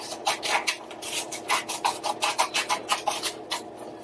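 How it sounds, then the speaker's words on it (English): Scissors snip through paper close by as strips are cut for a paper frog craft, a quick run of about a dozen crisp, rhythmic cutting strokes with no voices. "I'm gonna cut 2 strips right down it"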